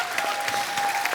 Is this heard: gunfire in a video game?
no